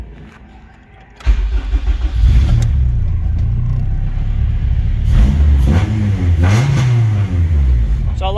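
A Honda car engine with a misfire cranks and catches after a Hondata KPRO ECU tune, then idles loudly up close and revs several times in rising and falling swells.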